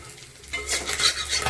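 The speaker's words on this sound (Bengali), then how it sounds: "এখন মাছগুলো কড়া করে ভেজে নেব।" Small fish fry in very hot oil, a brief close sizzle that swells suddenly about halfway through and keeps crackling to the end.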